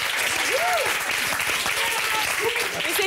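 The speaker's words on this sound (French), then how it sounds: "Applaudissements pour Julie Pietri." Lively applause from a TV studio audience runs throughout, dense and even, with voices calling out faintly above the clapping.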